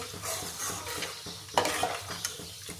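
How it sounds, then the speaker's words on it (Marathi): Homemade ghee being stirred in a pan, a soft scraping swish repeating in an uneven rhythm with light metallic clinks of utensil on pan, close and fairly quiet. "आता इकडे तूपही मधून मधून हलवायचं आहे"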